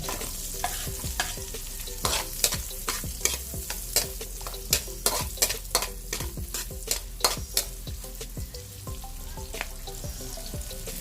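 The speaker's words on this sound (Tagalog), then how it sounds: "Ang next natin lalagay yung ating onion." Onion sautéing in a pan for spare rib caldereta, stirred briskly with a rapid run of loud, rhythmic spatula scrapes against the metal over a continuous sizzle.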